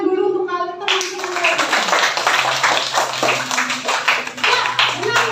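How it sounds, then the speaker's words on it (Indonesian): Classroom children break into a round of clapping, a dense burst of many hands clapping together just after a teacher's voice, continuing steadily for several seconds. "beri tepuk tangan dulu untuk kalian teman-teman"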